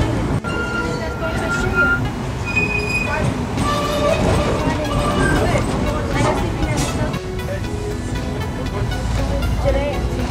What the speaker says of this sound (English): I call it a train, but it's a tram.